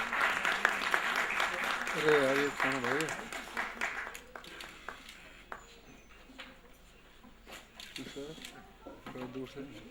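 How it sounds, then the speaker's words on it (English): Audience applause at an award function in New Delhi, loose scattered clapping that rises early then thins, heard under someone speaking into a microphone. "let's give a warm round of applause"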